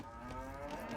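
A cow moos continuously in the Age of Empires video game, with the Burgundians civilization, over a steady game ambience for about a second, loud and near with no talking.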